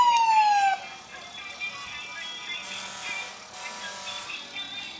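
An ambulance siren wails in a Christmas parade, a pitch sweep at first and then steady tonal wailing over crowd and street noise at moderate distance.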